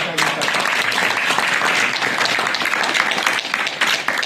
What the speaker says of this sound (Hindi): आप सब लोग एक बार जोरदार ताली से